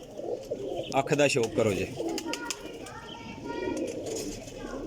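Cross-bred racing pigeons, golden and Ali-type birds, coo close by in low rolling calls, while someone talks over them in short bursts.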